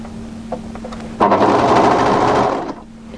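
An overlocker runs a seam on a draped-front shawl-collar hooded cardigan, starting abruptly with a loud, steady mechanical whir for about a second and a half before stopping, with faint room quiet on either side.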